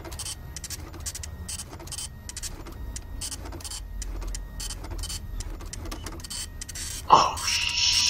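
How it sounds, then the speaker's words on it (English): In the horror game Five Nights at Freddy's Pizzeria Simulator, an in-game computer gives off a rhythmic, whirring, printer-like mechanical chatter in repeated short bursts, fairly quiet, ending with a sharp louder jolt. "Oh my God, the computer makes noise too."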